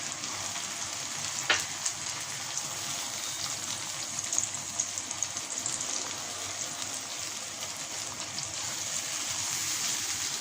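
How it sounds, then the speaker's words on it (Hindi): Tomato paste fries in a pan for egg masala biryani, giving a continuous soft sizzle like light rain with a sharp tap early on, moderately quiet and steady throughout. "अब इसमें मैं ये टमाटर का पेस्ट शामिल कर रहा हूँ।"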